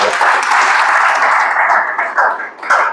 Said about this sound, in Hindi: कितनी बड़ी इनकम है, जोरदार ताली हो जाए यार।